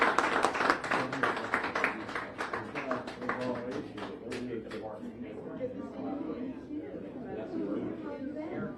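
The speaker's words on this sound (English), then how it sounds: "Round of applause for Seminole" Audience at a news conference on opioid overdose deaths in Florida breaking into a round of applause, dense clapping that is loudest at the start and then thins out amid murmured chatter.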